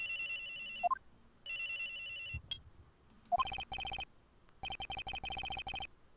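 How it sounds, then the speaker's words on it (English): A cell phone rings in the Phoenix Wright: Trials & Tribulations video game, its electronic ringtone playing in several loud repeated bursts with short pauses between, over quiet background music. "At around 10:30, I received a call on my cell phone."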